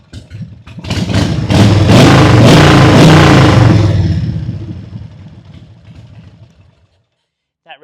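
Old motorcycle that sat unused for years, its engine running and revving hard, loud and close, then easing back toward idle and fading out near the end.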